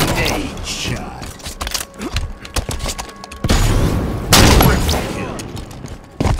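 Grenade blast in Halo 5 multiplayer amid a rapid-fire kill streak, heavy booming impacts and bursts of gunfire, loud and dense, with a voice talking over the action.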